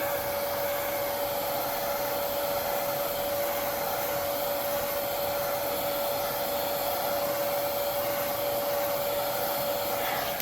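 A heat gun or hair dryer on low heat dries freshly airbrushed paint on a Shad Gasm fishing lure, giving a steady, even blowing whoosh with a faint high whine that runs unbroken throughout, with no voices.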